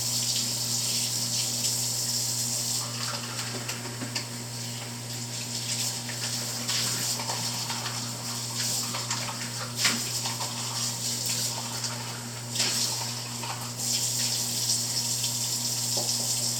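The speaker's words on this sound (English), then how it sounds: "so that I could wash the brushes" A tap runs steadily into a sink as paint brushes are washed, a constant splashing hiss with occasional small clatters and no speech.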